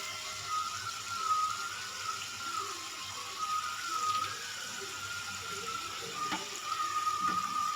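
Sweet somas fry in hot oil, a soft continuous bubbling sizzle as the pastries are turned over now and then, with faint scattered clicks.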